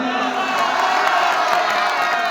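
Mushaira audience roaring with cheers, whoops and shouts at a Hindi-Urdu poetry recitation, a dense continuous crowd swell held at steady loudness throughout.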